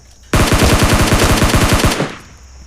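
A rapid burst of automatic gunfire from an assault rifle in the battle royale video game PUBG Lite, loud and close with evenly spaced shots for about a second and a half, then a short echoing tail.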